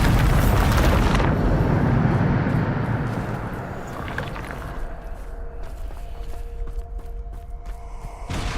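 A Bombarda blasting spell in Hogwarts Legacy: a loud, close explosive burst with deep rumble opens the clip, then fades over a few seconds into a softer lingering roar with faint tonal hums.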